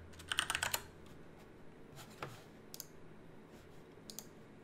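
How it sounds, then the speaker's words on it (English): Computer keyboard keys clatter in a quick, dense burst of typing, then give way to a few scattered, lighter clicks. The room is otherwise quiet. "all you have to do is type in the game you want"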